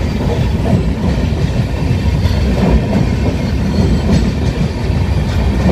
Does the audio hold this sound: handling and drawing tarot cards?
no